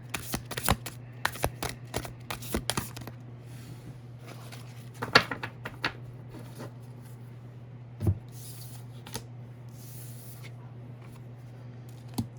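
Tarot cards are shuffled by hand in a dense burst of riffling flutters and slaps, then softer intermittent card taps and slides, close and clear against a quiet hum.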